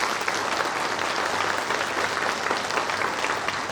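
Sustained applause from a convocation audience honoring university graduates, a dense, steady clapping that fills the room without a break, loud and close, no voices rising above it.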